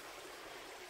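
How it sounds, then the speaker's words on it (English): A small side creek flows steadily, a constant soft rushing and trickling of water, faint and uninterrupted for the whole second. "A little side creek."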